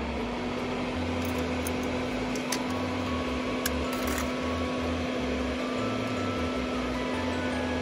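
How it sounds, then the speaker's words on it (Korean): A soldering fume extractor fan runs close by with a steady electric hum and a faint, even whir, holding constant throughout with no voices. "작동을 시키면 팬이 돌아가면서"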